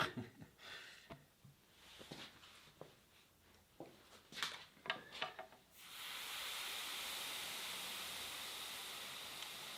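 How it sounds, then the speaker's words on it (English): Steam from an iron hisses steadily onto a wooden mid-century Lane end table, a continuous broadband hiss starting midway after scattered clicks and handling knocks. "Just want to hold it there a few seconds. Let that steam work."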